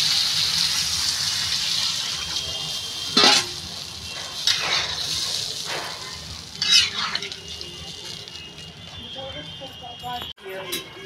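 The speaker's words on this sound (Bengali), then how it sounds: "জল দিয়ে দেবো।" Water pours into a pan of frying Bengali katla fish curry with potatoes, a steady hissing sizzle with a few louder splashing gushes and stirring scrapes throughout.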